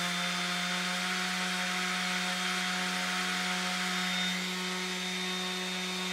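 A DeWalt 20-volt cordless brushless 5-inch random orbit sander runs steadily at its 12,000 OPM setting, giving a continuous, even motor whine with a strong low hum. The sound is loud and close, with no talking.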